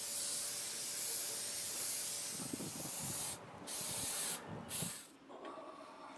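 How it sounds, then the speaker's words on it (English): 3M77 spray adhesive hissing onto an MDF panel in a steady, close aerosol spray, broken by two short pauses between passes before fading into quieter rubbing and rustling. "now we apply a thin, even coat of 3M77 to the entire MDF surface"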